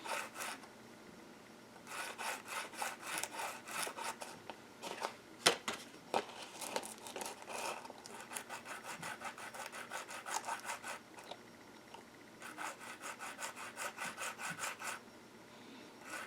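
Cork sheet rubbed back and forth on sandpaper with light pressure for a hair clipper cutting-height mod on an Andis Master, making repeated close scratchy strokes in bursts with short pauses between runs.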